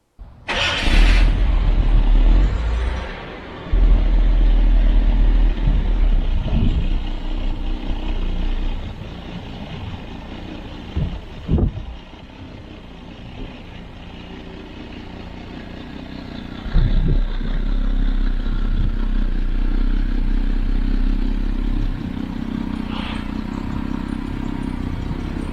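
A rebuilt Jaguar XJC sets off on a test drive, its engine rumbling steadily and loudly throughout, with a surge right at the start and another swell partway through, with no voices.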